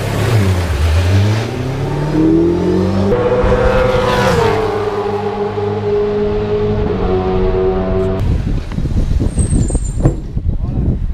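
A car engine revs up loudly on a hot lap, its pitch rising and falling through a long sustained roar, then settles into a rougher idle with some rattling.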